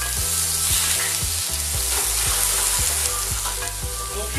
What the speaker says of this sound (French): À griller un petit peu oignon et fenouil.